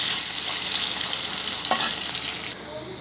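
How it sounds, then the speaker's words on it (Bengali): Pieces frying lightly in hot oil, French-fry style, for a Bengali hotel-style koi fish dish; a steady, bright, close sizzle that drops a little in level near the end, with no talking. "ঠিক সেরকম একটু হালকা হালকা ফ্রেঞ্চ ফ্রাইয়ের মতো ভেজে নেব।"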